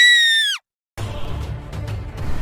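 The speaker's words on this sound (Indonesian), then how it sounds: "Sakit akan kehilangan satu lengannya membuat sang patriark langsung berteriak kesakitan seperti wanita." Patriarch Kuan Wu screams in pain after losing an arm: a loud, high-pitched cry lasting about half a second and ending abruptly, then after a gap a muffled rumbling background with faint clicks.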